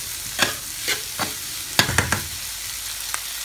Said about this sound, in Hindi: मैं टमाटर को इसमें ही थोड़ा सा फ्राई करके उसके बाद इसको ग्राइंड कर लेंगे